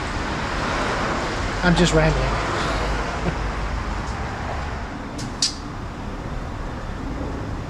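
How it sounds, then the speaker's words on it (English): Steady roadway traffic noise rumbles outdoors as cars pass nearby, a continuous low wash that persists beneath someone talking. "Is there too much traffic noise here?"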